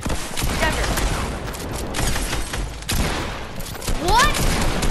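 Shotgun blasts in Fortnite, a few sharp reports scattered among dense game effects and music, loud and close, with a player's voice talking over much of it.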